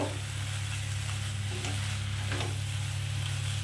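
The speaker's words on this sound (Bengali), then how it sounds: "2 থেকে 3 মিনিট এইভাবে একটু শুকিয়ে নেব।" Prawn paste sizzles steadily and dry in a wok, a constant hiss with a few soft scrapes of stirring under a low hum.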